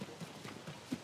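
Horse hooves in the video game Zelda: Tears of the Kingdom, a few soft, slow clip-clop steps at moderate distance with no voices.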